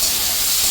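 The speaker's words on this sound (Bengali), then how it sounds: "তো আমি একটু কুচিয়ে রাখা রসুন এর মধ্যে দিয়ে দিলাম" Chopped garlic dropped into hot oil with frying diced potato and carrot gives a steady, loud, broad sizzling hiss that holds level throughout, with no talking.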